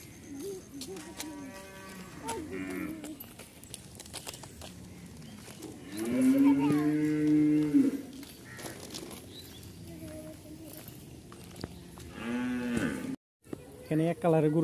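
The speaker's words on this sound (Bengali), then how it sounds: "এখানে এক কালারের গরু," White cattle at a dairy farm in Savar moo repeatedly, several long lowing calls rising out of quieter farmyard background, one especially loud near the middle and more toward the end.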